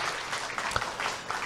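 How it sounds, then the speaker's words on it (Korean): A brief burst of audience applause at a company seminar, dense clapping that runs steadily for a moment without talk over it. "박수 한번 주세요."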